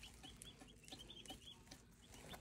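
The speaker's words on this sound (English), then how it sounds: "this is the meat chickens" Many soft, high-pitched cheeps from 27 baby meat chickens overlapping in a busy, continuous chorus around a heat plate, close and quiet, with a low background rumble.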